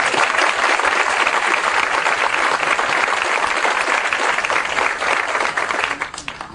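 Sustained applause from a sizable crowd at a George W. Bush speaking event, dense and steady, tapering off slightly at the end.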